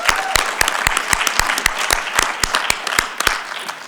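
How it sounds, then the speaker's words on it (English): A round of applause fills the ECOSOC Chamber at UN Headquarters during a conference town hall: dense, steady clapping from a large audience with sharp individual claps standing out, loud and continuous throughout. "Round of applause."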